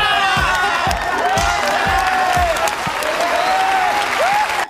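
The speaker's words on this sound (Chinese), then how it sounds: "表演完毕，大家纷纷鼓掌" An audience at a high school class performance in a TV drama claps steadily throughout, loud and dense, with scattered cheers and whoops mixed in.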